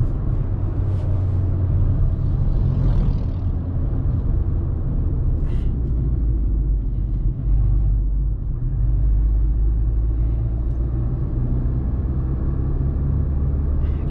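A Fiat Argo Trekking's engine and road rumble fill the cabin while driving at speed in fifth gear, a steady, loud low-frequency drone with tyre and wind noise and no distinct events.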